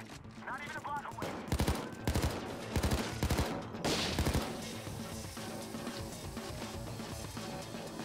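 Rapid bursts of automatic gunfire from a weapon in the video game Payday 2, several loud volleys in quick succession followed by a lingering, noisier stretch of continued shooting and clatter.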